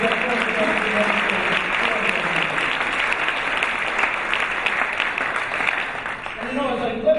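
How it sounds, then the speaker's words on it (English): Sustained audience applause fills a large room at an awards gala, steady dense clapping from a big crowd lasting throughout without pause. "So you give him a round of applause, too"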